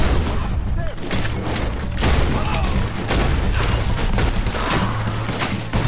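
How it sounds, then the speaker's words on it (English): Rapid gunfire in Red Dead Redemption 2 cracks and booms in dense bursts through a chaotic shootout, with someone talking over it. "God, I shot that guy 15 times!"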